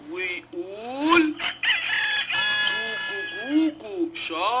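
A farm rooster crows repeatedly in loud, close, harmonic calls that rise and fall in quick succession, with short pauses between the bursts.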